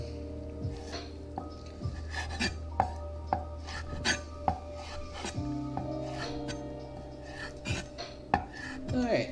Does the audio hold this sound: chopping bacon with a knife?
yes